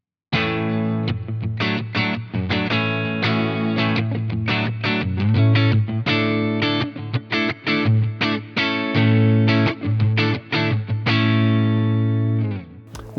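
A Telecaster electric guitar playing a picked melody through a Blackstar Polar 2 audio interface, treated with echoing delay and spacious stereo reverb, each note ringing and trailing off in a wide stereo wash.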